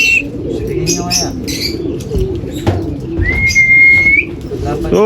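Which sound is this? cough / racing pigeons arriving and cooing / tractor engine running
racing pigeons arriving and cooing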